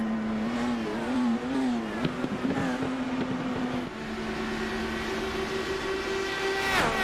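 IndyCar race cars in a racing video game, lapping during a HyperX Indy 500 sim race: a steady high engine drone fills the whole stretch, with pitch shifting between gears and a sharp rise near the end, and no talk.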